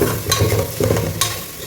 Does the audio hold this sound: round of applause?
no